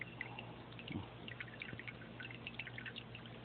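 Water trickles and drips softly from a small fountain pump in a birdbath, light irregular splashes over a faint steady pump hum, quiet and nearby.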